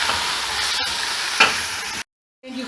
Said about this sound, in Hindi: ये गोश्त है, इसको अच्छी तरह भूनेंगे